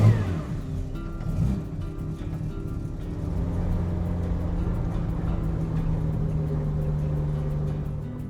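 Jaguar car engine starting up, then settling into a steady, close idle with a low hum that runs evenly to the end.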